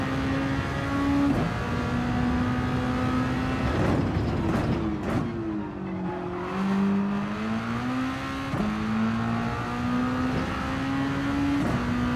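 A race car in Gran Turismo 7 braking hard into a corner, its loud engine dropping through revs with downshift blips, then climbing again as it powers out, steady and close throughout.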